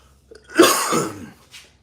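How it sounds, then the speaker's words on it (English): A single rough cough, close and fairly loud, with a faint breath or throat sound after it. "I got this fucking cough again."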